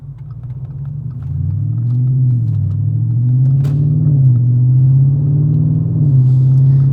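Muffler-deleted Audi RS5 exhaust droning deep and boomy at low revs during normal driving, a loud continuous rumble with gentle rises and falls in pitch.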